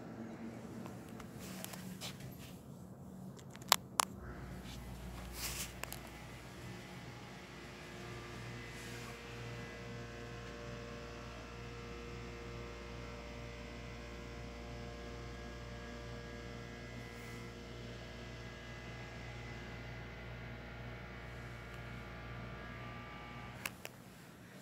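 A ThyssenKrupp hydraulic elevator at a Kaiser facility in Tanasbourne, Hillsboro, Oregon, running with a steady low motor hum that holds throughout, a few sharp clicks and clunks near the start and end, quiet and close.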